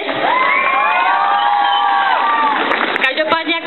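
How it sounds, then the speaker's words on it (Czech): An audience cheers and whoops loudly for a freestyle hip hop dancer, with high shouts and children's voices over a dense crowd roar, then a few sharp claps near the end. "To si zaslouží určitě potlesky teď."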